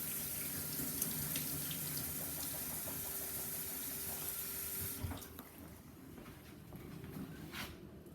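Tap water runs into a kitchen sink while rice is rinsed and drained, a steady splashing stream that stops partway through, leaving quieter room noise with a faint mechanical hum and small knocks.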